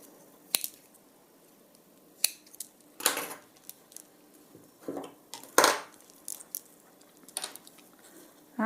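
Sharp, quiet snips cut through thin bead wire for a necklace, a handful of crisp clicks spaced irregularly against a near-silent background.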